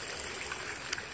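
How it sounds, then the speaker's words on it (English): Small garden pond waterfall trickling in a backyard, a steady, faint wash of running water with no talk over it. "pond waterfall"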